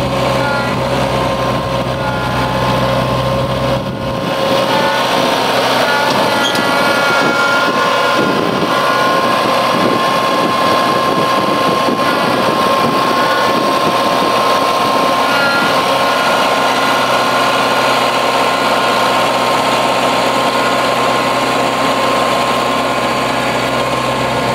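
A tractor engine idles nearby with a constant low rumble and faint hum, holding an even level throughout.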